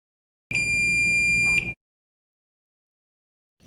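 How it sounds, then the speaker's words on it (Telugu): A multimeter continuity test on a Redmi Note 10T 5G circuit board gives a single sharp, high-pitched electronic beep for about a second, then silence follows. "బీప్ వస్తుంది కాబట్టి లైన్ కనెక్టివిటీ ఓకే ఉన్నట్టు"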